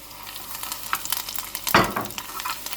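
Butter sizzles in a pan while a lobster sauce with lemon juice and double cream is being made, a steady frying hiss with a louder burst of sizzle partway through.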